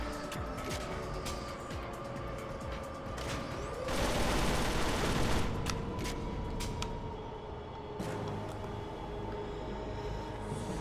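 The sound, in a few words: gunfire in the video game 007 Agent Under Fire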